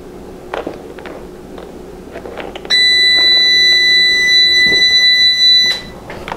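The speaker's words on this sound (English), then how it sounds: "There's our timer." A kitchen oven timer goes off with a loud, steady electronic buzzing tone lasting about three seconds, over faint background room noise and a few soft footsteps or clatters while baking a crab pie.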